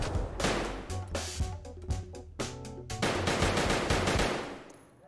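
Rapid bursts of gunfire in Escape from Tarkov, sharp repeated shots in quick clusters with brief gaps, loud and close, fading toward the end.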